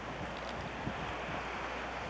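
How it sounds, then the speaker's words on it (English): Ocean waves wash onto the rocky Nova Scotia shore below cliffs in a steady broadband roar. Cold wind buffets the microphone and blurs the surf into continuous noise. "Elaine wanted to get the sound of the waves crashing on the shore."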